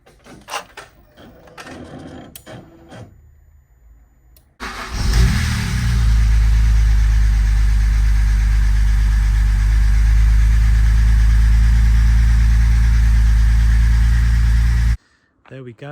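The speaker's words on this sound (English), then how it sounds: "then we should be in a position to start the engine." Engine of a BMW Z4 E85 with the N52 straight-six after valve cover gasket repair: clicks and shuffling, then the engine cranks and catches, flares briefly, and settles into a loud, steady, close idle before cutting off abruptly.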